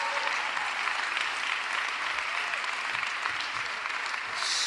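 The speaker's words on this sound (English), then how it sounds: "Yes, give her a round of applause." A large audience at Philadelphia's State of the City event applauds in a dense, even wash of clapping from many hands, sustained and moderately loud throughout, with no voices over it.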